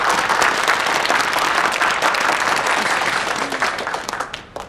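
An indoor crowd claps in encouragement, a dense burst of applause that holds steady and then thins out into a few scattered claps as it fades.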